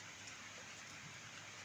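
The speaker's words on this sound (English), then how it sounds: "Oh, it's raining outside." Steady rain falling outside, a continuous even hiss of drops with no voices, heard from indoors at a moderate distance.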